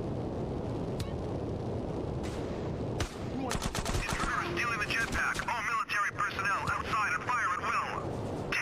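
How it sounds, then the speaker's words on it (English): Dual-wielded machine guns rattle in Grand Theft Auto: San Andreas, rapid bursts crackling amid constant game noise and chaotic effects, loud and close, with a voice talking over the action. "this is the perfect time to have dual wielded machine guns, but you just start shooting them"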